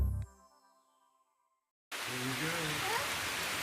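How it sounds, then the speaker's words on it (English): Steady rain hisses outdoors after a fading broadcast chime and a moment of silence, and a voice talks over the downpour. "We're gonna go out there in the rain."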